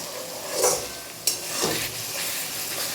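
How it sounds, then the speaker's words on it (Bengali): Spice paste for a chicken curry frying in oil while being stirred, giving a steady sizzle with a few spoon scrapes and one sharp knock against the pan, heard up close. "এই যে এখন মশলাটা কষানো হচ্ছে, মানে মশলাটা কষাচ্ছি"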